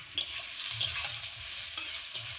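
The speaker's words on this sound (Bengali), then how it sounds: "লবণ হলুদ দিয়ে আবারও আমি খুব সুন্দর করে ভেজে নিচ্ছি" Taro stolons fry in a pan with salt and turmeric, a steady close sizzle broken by a few sharp scrapes and clacks of stirring, with no voices.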